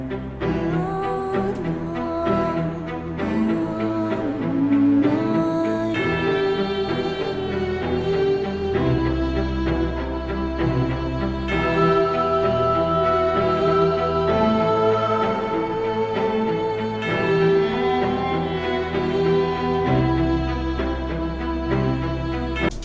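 Atmospheric game score composed for Vampire the Masquerade Redemption Reawakened, with sustained layered tones, a melodic line and a deep pulsing low end, playing steadily and fully with no talking.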